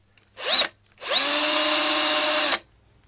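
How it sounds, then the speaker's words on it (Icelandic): A power drill spins a tiny round file, running in a short burst and then a steady high whine of about a second and a half, loud and close, with no talk. "nú ætla ég að nota þjöl, pínlitla rúmþjöl sem ég á í borvélinni"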